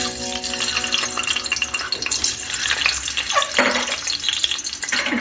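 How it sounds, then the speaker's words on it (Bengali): Eggs frying in hot white oil in a nonstick kadai on a gas stove, a loud, dense, steady sizzling hiss throughout with no talking. "এখন আমি ডিমগুলো ভেজে নেব।"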